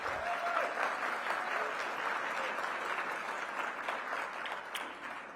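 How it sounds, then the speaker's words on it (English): Steady audience applause at a luncheon honoring democracy champions, a dense continuous patter of many hands clapping throughout, fairly distant in a hall. "Give Michael a big round of applause"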